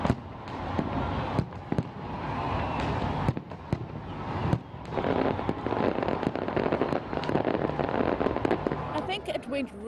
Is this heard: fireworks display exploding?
yes